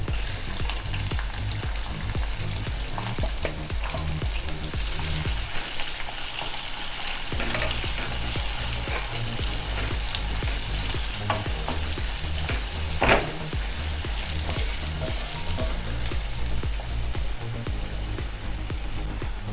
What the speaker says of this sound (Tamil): பச்சை மிளகாய் வதங்கிடுச்சு, வெங்காயத்தை போட்டுடலாம்.